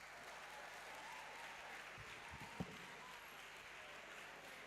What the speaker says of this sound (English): everybody is clapping